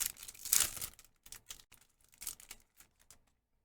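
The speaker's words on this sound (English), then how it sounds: "as I open and shuffle through the cards" Trading cards from a Seven Deadly Sins: Revival of the Commandments case are opened and shuffled by hand, with a burst of crinkly wrapper tearing followed by a run of quick, light card flicks and taps, close and with no voices.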